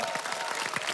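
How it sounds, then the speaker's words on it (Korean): A TV studio audience applauds, a dense patter of many hands clapping steadily throughout the brief moment. "자, 한번 좀 박수를 한번 좀"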